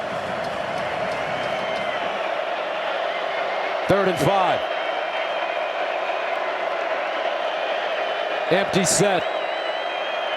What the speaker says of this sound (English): the crowd noise just making it really difficult on this Tech team